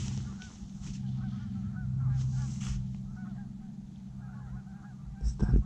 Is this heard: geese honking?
yes